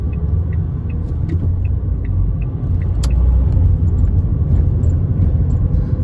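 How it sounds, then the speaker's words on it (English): An old car's engine rumbles low and steady on a city street, swelling slightly midway as it revs, with faint ticks and clicks over the drone and no one speaking. "if you do hear quite a lot of revving up, my car is old, so it does require quite a little bit more rev"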